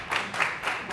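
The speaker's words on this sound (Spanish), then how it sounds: "fuerte el aplauso, recibimos" A brief, soft round of studio applause greets a guest arriving on a Paraguayan talk show, coming in a few rising swells of clapping within a single second.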